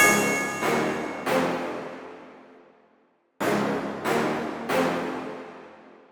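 Six struck hits in two groups of three: a crash cymbal, a bell tone and a brass stab, each ringing out and decaying before the next, with a brief gap between groups.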